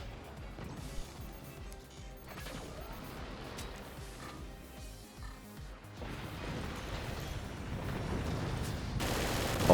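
Weapons in the artillery strategy game Forts fire in scattered bursts, with crackling shots and impacts that thicken into denser, louder barrages toward the end, set in a low continuous rumble.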